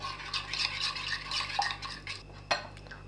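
Sliced potatoes with spices, ground garlic and ginger are stirred in a pan, giving quick repeated scraping and clinking of a spoon against metal, fairly close and moderately loud, with a sharper knock near the end.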